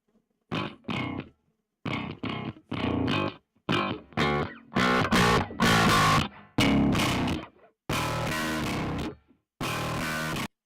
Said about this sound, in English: I can bring a distortion plugin in of my choosing, bring in the one that's just JS distortion.